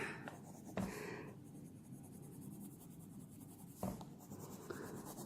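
Colored pencil pressed hard and rubbed back and forth across paper to blend colors, a steady close scratchy scraping with two brief louder strokes, no voices.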